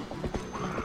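A horse runs over grass in a Zelda video game, its hooves landing in a quick, rhythmic clip-clop with a faint rustle, steady and close for under a second.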